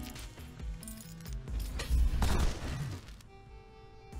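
Rapid bursts of Chakkar Rifle fire in the sci-fi game SOTS: The Pit, a string of sharp energy-weapon shots and booms rising to a dense volley before fading to a humming tone.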